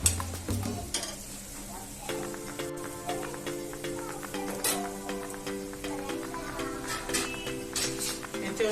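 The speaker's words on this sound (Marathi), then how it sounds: "हा टोमॅटो चांगला परतला गेला पाहिजे." Chopped tomato and onion sautéing in a pan for a home-cooked vegetable dish, with a soft sizzle and repeated scraping stirs of a spoon against the metal, close by and with no one speaking.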